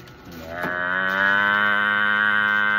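A single long, steady cow moo swells and holds for about two seconds, rich and droning, with no talking over it.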